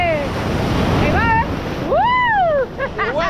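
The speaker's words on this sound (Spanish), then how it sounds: "¡Te trajo toda la ola!" Ocean surf on a beach on El Salvador's Costa del Sol, a loud rolling wave rushing and breaking nearby, wind buffeting the microphone, and excited voices shouting and whistling over the roar.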